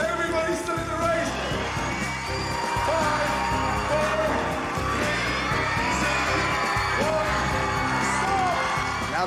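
A crowd cheers and whoops at a pasta eating contest, a loud continuous roar of excited voices with shouts rising over it throughout.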